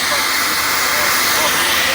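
A 1929 Sentinel steam lorry at a vintage show lets off steam pressure, giving a loud, steady, broad hiss that fills the whole moment, close by and unbroken.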